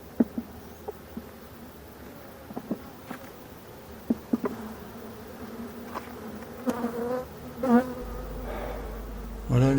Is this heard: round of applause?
no